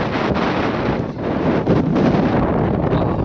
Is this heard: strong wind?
yes